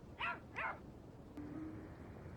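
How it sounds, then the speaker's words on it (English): A dog gives two quick, sharp yipping barks up close, followed by a brief thin whine, in a diner cooking game. "Oh, it's a doggy."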